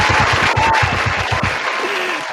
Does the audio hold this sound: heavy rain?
no